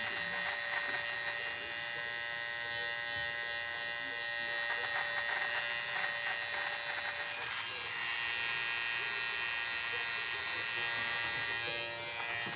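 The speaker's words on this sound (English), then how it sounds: "I don't know if you can see the name of the clipper anyway while I'm cutting." Electric hair clippers buzz continuously while cutting hair, a steady, close, high-pitched whine that holds through the whole stretch with slight changes as the blade moves.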